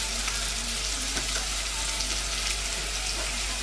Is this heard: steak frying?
yes